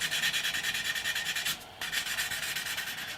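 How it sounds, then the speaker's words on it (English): Steady rhythmic rubbing of 600 grit sandpaper on a part of a handmade classical guitar, close and fairly quiet, with quick regular strokes and a brief pause midway. "Now I can give it a good sanding down, again with just the 600 grit."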